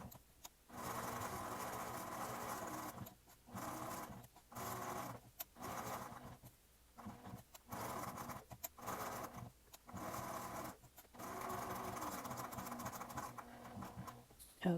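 A sewing machine stitches around a fabric heart in a run of steady motor bursts, each lasting a second or two and separated by short pauses.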